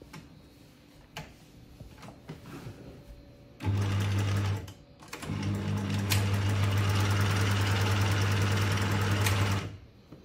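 Sewing machine stitching a pocket on a pair of work shorts, running loud and close in two sustained bursts with a steady whirring hum and a brief pause between them, after quieter handling noises.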